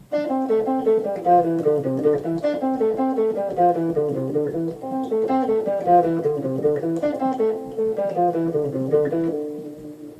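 A guitar plays a Regular Show lick at a slowed tempo, with a steady run of clear, picked melodic notes. It is close and fairly loud, with no voices, and it fades out at the end.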